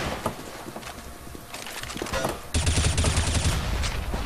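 Gunfire on the Mirage map in CS:GO: scattered shots at first, then a loud, close, rapid burst of repeated blasts in the last couple of seconds, with no voices over it.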